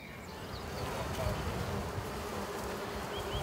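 Bees buzz outdoors at a forest kindergarten, a faint, steady, continuous hum that never breaks or changes in level.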